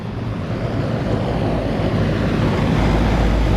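Air conditioner condenser fan motor running slightly over its rated current with grease on the shaft, a steady broadband whooshing drone with a low rumble, continuous and fairly loud throughout.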